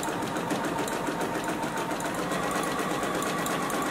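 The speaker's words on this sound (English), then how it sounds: "Pivot and continue to sew." JUKI sewing machine stitching a beverage coaster, a steady rapid mechanical whirring with even needle ticks throughout, close and continuous with no voices.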